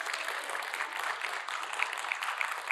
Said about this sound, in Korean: 한번 우리 박수 한번 해요